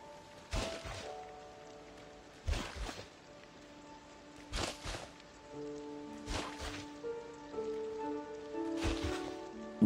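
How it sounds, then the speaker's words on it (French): Rain in Disney Dreamlight Valley on Switch comes in periodic swells of pattering noise over soft, sustained background music tones. "il pleut!"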